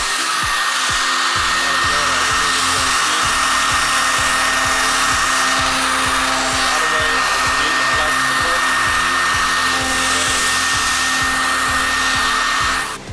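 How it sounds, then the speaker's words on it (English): A hair dryer blows hot air onto carbon fiber vinyl wrap on a car, a loud, steady whirring roar held for the whole stretch. A faint low rattle runs beneath the airflow, and no one speaks. "you need to get the dryer again, make it hot"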